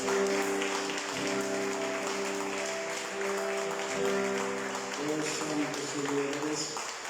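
A congregation claps together in steady applause during a Spanish-language church worship service, with music and voices carrying underneath throughout.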